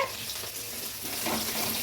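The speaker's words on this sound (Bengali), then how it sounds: "এই যে মাংসর আলু ভাজা হচ্ছে" Potatoes for a meat curry fry in spattering oil, making a dense, continuous close sizzle that grows slightly louder toward the end, with no talking.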